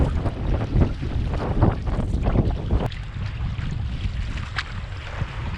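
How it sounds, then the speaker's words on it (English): Strong wind buffets and roars across the microphone on a choppy lake during a canoe trip in the Quetico wilderness, with dull low rumble and water slapping, steady throughout with no talking. "it's very windy, but it's not ferocious."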